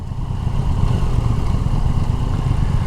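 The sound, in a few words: Triumph Tiger Sport 800 triple motorcycle engine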